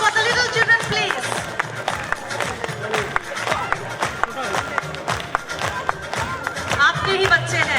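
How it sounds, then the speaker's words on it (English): Audience applause for young children at a kids' annual concert, a continuous patter of claps with some crowd noise, mixed under a voice speaking over a microphone throughout. "A huge round of applause for the little children, please."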